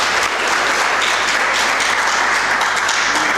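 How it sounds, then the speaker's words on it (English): Audience at a school co-curricular and STEM activities function claps in a thick, continuous burst of applause, loud and even from start to finish with no voices over it. "एक दफ़ा clap कर दे for all of you people"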